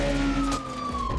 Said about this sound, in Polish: Tam mamy dwa radiowozy.